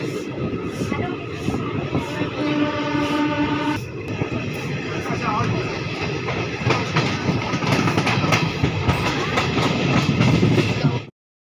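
Digha–Malda Town special passenger train running nonstop toward forest country, a loud steady rumble with rhythmic clickety-clack of wheels on rail joints throughout, close and continuous until it cuts off abruptly.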